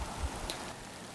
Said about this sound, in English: because it's still drizzling